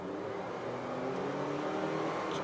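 Renault Samsung QM6 (Koleos II) 2.0 GDe petrol engine with CVT revving under deep throttle, a steady, rough-edged drone rising slightly in pitch and staying loud and constant throughout.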